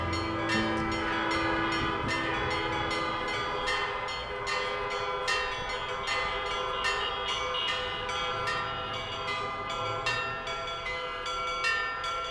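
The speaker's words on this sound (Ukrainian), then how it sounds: "Це великий дзвін Софії Київської, відлитий коштом Івана Мазепи і тому названий його ім'ям." The large Mazepa bell of St Sophia Cathedral in Kyiv rings with a steady, sustained metallic hum, its overlapping tones sounding continuously and fairly loud for the whole stretch, with repeated strikes renewing the resonance.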